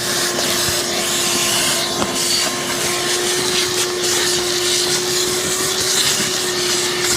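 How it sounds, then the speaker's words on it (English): A shop vac running hard while clearing debris from the bottom of a drain pipe on a lawn, a loud, steady whining roar with a constant tone throughout and no pauses or talk. "Shop vac works real nice for getting the good stuff down in the bottom here."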